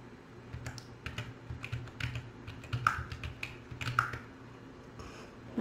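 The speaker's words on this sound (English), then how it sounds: "you're gonna press the arrows on your keyboard" Arrow keys pressed on a computer keyboard, a steady run of close clicky keystrokes with an irregular rhythm over a low background hum, without speech.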